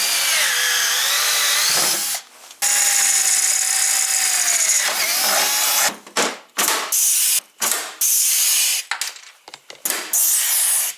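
A power drill bores holes through a Rev XP snowmobile tunnel during a Tracks USA tunnel extension. The motor whines loud and close in several bursts, with short pauses between holes.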